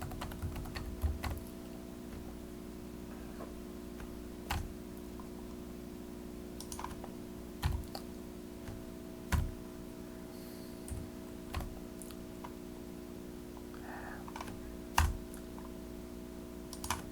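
Typing on a computer keyboard, soft scattered key clicks with a few louder taps over a constant electrical hum, fairly quiet and close.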